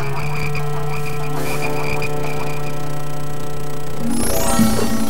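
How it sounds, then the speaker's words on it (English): Frogs croak in a dense, steady chorus of rhythmic calls, loud and close, continuing throughout with a brighter burst of higher croaks near the end. "You, make the frogs go away."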